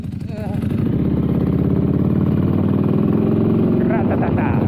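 A motorcycle engine runs loud and steady nearby, a continuous rough, tractor-like rumble as it rides along carrying a passenger.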